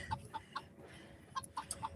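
Hens on a farm give soft, evenly spaced clucks, a short series of faint notes close by with a quiet background and no talking.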